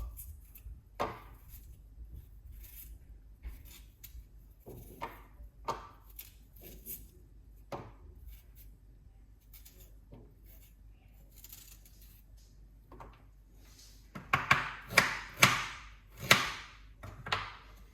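Fresh organic ginger sliced with a knife on a cutting board, a series of sharp chopping knocks spaced out at first, then a quicker, louder burst of cuts near the end, close and alone.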